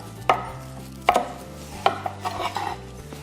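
A knife chops celery on a cutting board in a home kitchen, with four or five crisp, evenly spaced strikes standing out clearly over a low steady hum.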